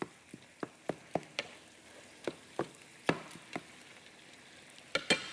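Onions softening in a pan for enchiladas, giving faint intermittent pops and crackles spread across several seconds, with soft stirring scrapes and no talking.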